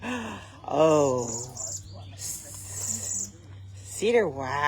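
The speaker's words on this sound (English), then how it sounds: "cedar waxwings. This is a familiar bird to a lot of people." Cedar waxwings at a bird banding station give thin, high calls in short bursts behind people talking nearby, whose voices dominate.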